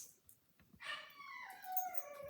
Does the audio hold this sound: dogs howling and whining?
yes